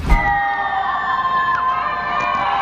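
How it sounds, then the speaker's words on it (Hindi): University students shouting from windows and roofs make a dense, continuous roar of many voices, steady and loud, with a few sharper cries rising above the crowd. "यूनिवर्सिटी ने स्टूडेंट्स के लिए खिड़कियों और छतों पर चिल्लाने का ये अनोखा तरीका निकाला"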